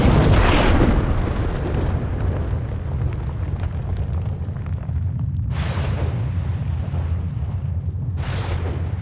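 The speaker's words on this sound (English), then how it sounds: "As the asteroids crashed to Earth, they smashed apart." Deep, rumbling explosions of asteroids striking Earth roll on continuously, with a sharp burst at the start and further crashing blasts later, loud and sustained.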